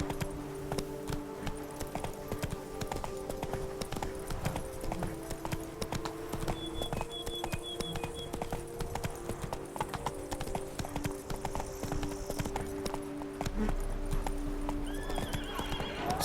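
Roach, a horse in the video game The Witcher 3, gallops with steady, continuous hoof clip-clops and whinnies over a constant background of game ambience and music.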